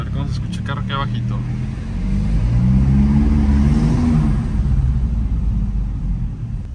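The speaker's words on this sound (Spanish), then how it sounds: "Vamos a ver cómo se escucha el carro aquí abajito." A car engine in a Mercedes versus Kia street drag race, its rumble swelling into a steady rev that holds loud and close for several seconds, with voices talking over the top.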